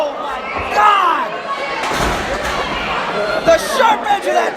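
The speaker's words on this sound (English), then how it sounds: "chair to the midsection" A chair slams into a wrestler's midsection during a tag-team wrestling match, a sharp impact thud amid crowd noise and excited shouting commentary throughout.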